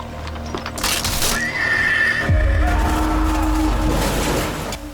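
Donkeys pull carts along long roads, with a loud braying whinny, a few hoof clip-clops and a low rolling rumble that carries on steadily, with no talk.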